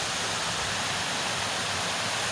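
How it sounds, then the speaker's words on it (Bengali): Dirty city wastewater pours out into the Brahmaputra river in Mymensingh, a steady, loud rushing roar close by with no voices. "দেখুন পানির কি শব্দ"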